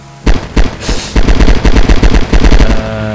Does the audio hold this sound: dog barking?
no